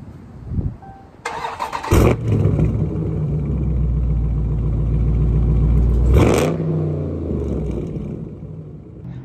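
A car engine cranks and catches after a couple of clicks, then settles into a loud, steady idle with a low rumble, followed by a brief revving rise near the end before returning to idle.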